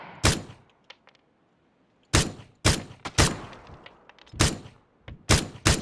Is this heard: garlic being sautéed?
no